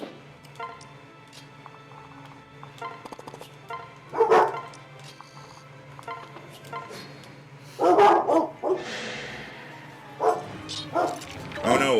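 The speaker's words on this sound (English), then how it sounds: "it's hard to hear me over the dogs" Dogs barking in Fire Emblem Awakening, loud, repeated bursts over a steady background, with a voice talking between and under the barks.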